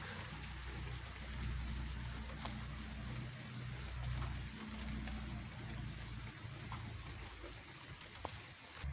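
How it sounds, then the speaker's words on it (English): Unexpected summer rainstorm during a thunderstorm, heard as a steady, moderately loud wash of rain with a rumbling low-end bed and scattered drop impacts, continuous throughout with no voices. "This is an unexpected rainstorm."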